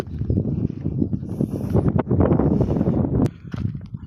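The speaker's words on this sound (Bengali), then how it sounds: "আর প্রচন্ড বাতাস" Strong wind gusts across the microphone on a road in a Saudi Arabian village, a loud, continuous rumbling buffet with brief dips and bursts throughout.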